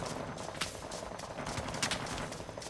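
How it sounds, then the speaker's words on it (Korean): Gunfire aimed at the player in the Vietnam-era shooter Rising Storm 2: Vietnam, a dense fusillade of sharp cracks and bursts from several weapons at middling distance over a rumbling battlefield din. "누가 자꾸 나를 쏜다"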